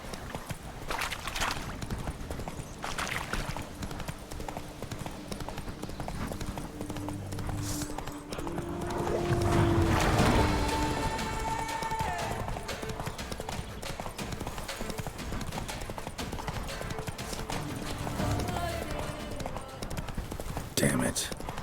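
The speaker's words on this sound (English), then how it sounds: "Let's call Roach. Make things go a bit faster" Roach, the horse in The Witcher 3: Blood and Wine, gallops with steady rapid clip-clop hoofbeats running through the whole stretch, joined by game music and other effects, while a player talks over it.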